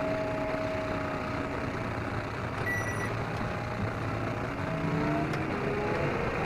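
A tractor engine works steadily while ploughing a wet field, a continuous low drone with faint tonal whines, moderately distant and unbroken, with no speech.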